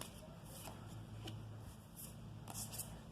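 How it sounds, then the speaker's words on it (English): Tarot cards being shuffled in soft, papery bursts of riffling and sliding, quiet and close, with a few brighter flicks standing out over a low steady room hum. "one more shuffle"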